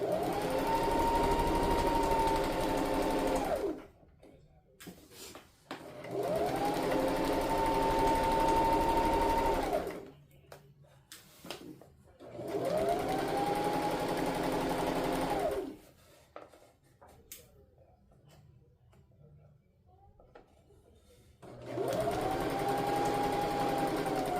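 A sewing machine runs in four long, loud bursts of steady motor whine while a robe is sewn, with quiet pauses between runs as the fabric is adjusted.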